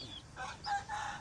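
A single faint rooster crow carries from a distance over quiet background noise.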